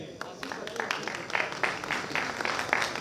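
Audience applause at a pharmaceutical sciences conference for an oral presentation prize winner, a moderate patter of many hands clapping at some distance, steady throughout, with a voice speaking over it.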